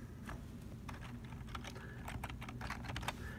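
Fingers type on a computer keyboard in quick, irregular bursts of light clicks with small pauses, heard close and alone against a low hum.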